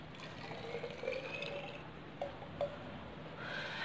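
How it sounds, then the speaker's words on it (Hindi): Cucumber juice pours into a bottle with a faint, steady trickle and a few small splashes, set against quiet room noise. "तो ये पूरा जूस मैं इसमें डाल देती हूँ।"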